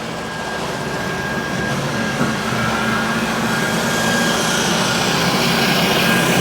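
A heavy-duty Marvel Spartan horizontal fully automatic bandsaw with hitch feed runs through a cutting cycle, giving a steady, loud mechanical hum and broadband whir that holds evenly throughout with no talking.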